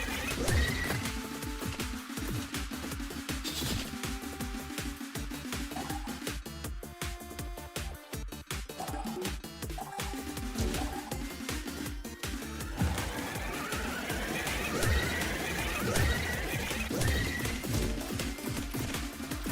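Horses whinny and neigh repeatedly amid clattering hoofbeats and crashes in a ragdoll physics video game, layered over steady game music and effects throughout.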